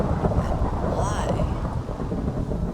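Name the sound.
rain and thunderstorm in the video game Minecraft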